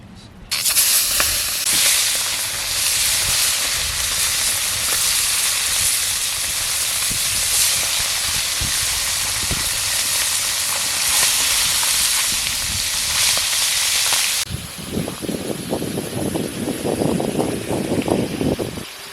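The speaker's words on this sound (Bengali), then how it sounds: "কড়াই তেল গরম হয়ে গেছে, তেল দেবো। এর মাছটাকে ভেজে নেব।" Pomfret fish frying in hot oil in a wok, a loud, continuous hiss and sizzle that holds steady for about fourteen seconds, then drops to softer crackling and bubbling spatter.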